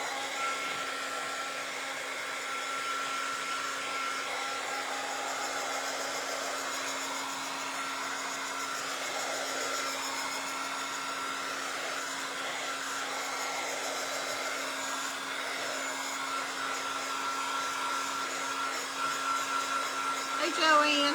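Hair dryer blowing on a freshly painted boot, a loud steady whooshing hum that runs without a break from start to finish, close by, with faint talk underneath.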